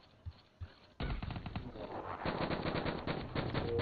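FAMAS assault rifle fire in Black Ops 3: after two faint thuds, a loud, rapid automatic burst rattles continuously to the end, with no voices.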